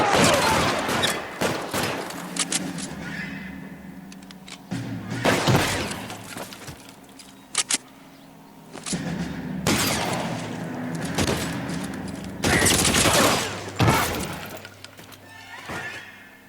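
Shootout in L.A. Noire, several loud bursts of gunfire in separate volleys with sharp cracks and quieter gaps between them, no talk.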